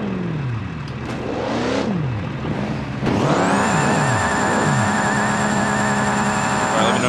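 A first-generation Cummins drag truck engine in BeamNG.drive revs up and down in rising and falling sweeps, then holds a loud, steady high-rpm roar with a constant whine close by.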